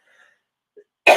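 A single short, harsh cough bursts out near the end after near silence, preceded by a faint throat sound.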